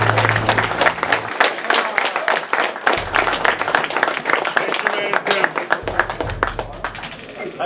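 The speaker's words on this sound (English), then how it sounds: "give yourselves a big round of applause." A Warmachine tournament audience claps loudly and close, a dense burst of many hands mixed with whoops and voices from the crowd, sustained for several seconds.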